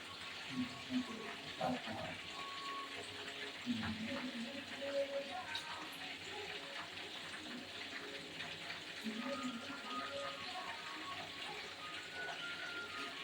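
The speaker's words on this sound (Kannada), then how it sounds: "ಒಂದೊಂದೇ ನಿಧಾನಕ್ಕೆ ಕುದೀತಾ ಇದೆ ನೋಡಿ" Mutton kheema balls simmer in a pot of boiling curry, giving a quiet, continuous bubbling wash with small pops throughout, while a voice is faintly heard at moments.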